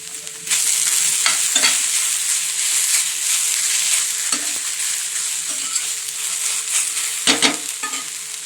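Okra frying in a pan, a steady close sizzle broken by several sharp scraping knocks of a spoon stirring it, loudest near the end.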